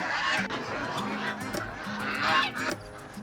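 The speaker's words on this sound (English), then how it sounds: "I hear some geese or ducks." Geese or ducks honk in short repeated calls at a farm setting with hay rides and turkeys, moderately close and mixed with outdoor background noise.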